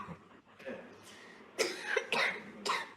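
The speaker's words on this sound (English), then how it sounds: "This boy had presented with resistant cough for last 1 week, always coughing." A boy with a persistent cough that may be a vocal tic coughs repeatedly, about four sharp harsh bursts in the latter half, preceded by faint throat noises and low murmuring in the background.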